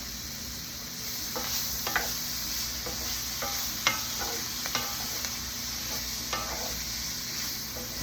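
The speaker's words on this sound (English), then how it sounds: "Let me make sure my sausage isn't burning. It's getting brown" Sausage browns in a soup pot with a steady close sizzle and hiss, and a few sharp pops and spatters rise above the constant frying noise.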